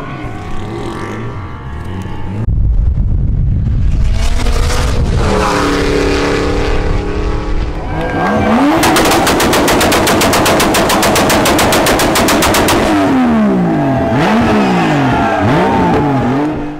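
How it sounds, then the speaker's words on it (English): A 2JZ-powered Mustang does a burnout in a burnout competition, its engine roaring loud and sustained at high revs with rapid popping, crackling exhaust bursts and rising and falling rev sweeps, close and continuous with no talk. "I actually did a burnout in the Mustang in the burnout competition"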